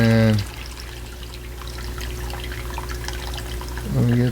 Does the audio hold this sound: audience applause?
no